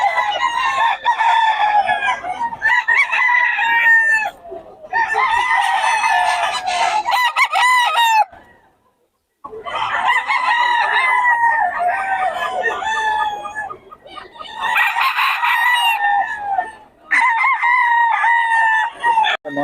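Several roosters crow repeatedly in overlapping bursts at a busy chicken market, close and loud, with clucking between calls and a brief lull midway.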